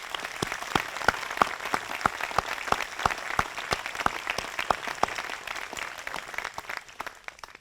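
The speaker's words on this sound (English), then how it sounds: "Please join me in a round of applause" Scattered, sparse clapping from a smallish group at a Memorial Day ceremony in North Andover, Massachusetts, individual claps distinct and fairly rhythmic, moderately distant and thinning out toward the end.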